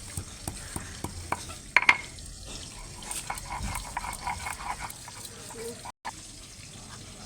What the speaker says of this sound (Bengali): আদাটা বেটে নিচ্ছি।